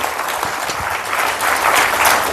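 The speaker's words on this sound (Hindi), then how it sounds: "तो जोरदार तालियां हो जाए एक बार।" Steady applause from a seminar audience, dense hand clapping that holds at a fairly loud level and swells slightly toward the end, with no talking over it.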